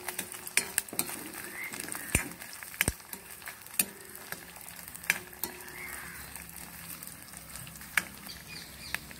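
Onion and whole dried red chillies fry in a pan for tomato chutney, a steady crackling sizzle broken by sharp clicks and scrapes of a spoon stirring against the pan.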